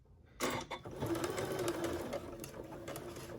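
A sewing machine runs continuously on its free arm, stitching a quarter-inch seam on a fabric trick-or-treat bag, a close, steady mechanical whir with rapid needle clatter that starts abruptly after a brief quiet moment.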